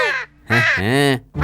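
A crow in a children's animated cartoon caws loudly nearby, a few harsh, drawn-out calls separated by short pauses.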